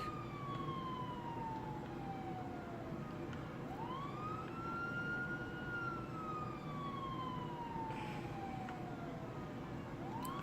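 A police siren on a modded vehicle in the video game GTA V wails in slow rising and falling sweeps, fairly faint and steady over a constant low background hum, with no talk over it.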